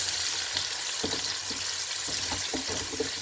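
Chopped onions hit hot oil in a pot for Nigerian vegetable soup, a steady loud sizzle with intermittent scraping stirs throughout, no talking.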